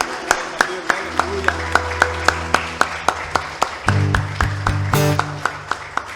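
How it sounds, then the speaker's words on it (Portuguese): Rhythmic hand clapping from a church congregation, sharp evenly spaced claps keeping a steady beat over sustained organ or keyboard tones, with the music swelling near the end. "Você pode aplaudir o nome do Senhor Jesus Cristo."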